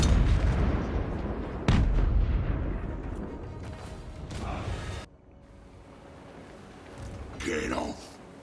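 Heavy cannon artillery fire from Total War: Warhammer 3, with a loud booming blast followed by rumbling battle noise and further impacts, under game voices and commentary speech.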